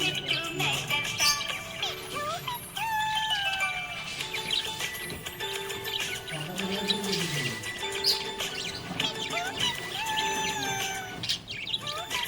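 A happy pet budgie chirps and tweets in quick bright bursts throughout, close and fairly loud, mixed with other tonal background sounds.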